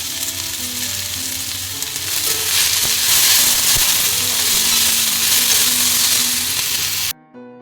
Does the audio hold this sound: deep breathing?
no